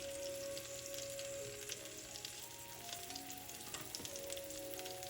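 Cabbage rolls fry in a pan of oil with a steady, close crackling sizzle that runs unbroken throughout, with faint tonal ringing over it and no voices.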